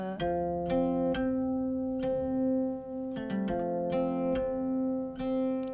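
Guqin harmonics ring out in a slow, irregular sequence, bright bell-like tones sustaining over a low drone, each attack clear and close.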